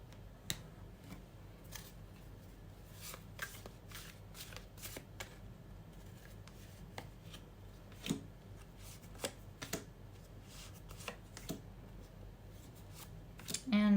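Tarot cards are shuffled and drawn by hand at close range, making quiet papery riffles and sharp snaps and flicks that come in irregular bursts over a faint, hushed background.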